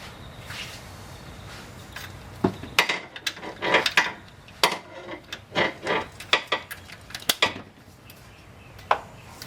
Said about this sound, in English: using the 19mm brake bar I am rotating the crankshaft